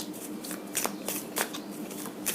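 A tarot card deck is shuffled, a close, soft riffling patter of cards with a few brighter flicks over a couple of seconds.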